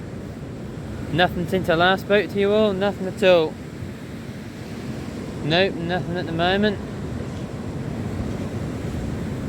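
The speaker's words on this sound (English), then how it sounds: "Sorry about the noise, that's just, we've got quite a few noisy waves about." Sea waves on Gorleston beach at night make a continuous broad wash and rumble beside the groynes, heard steadily beneath someone talking close to the microphone during a night fishing session.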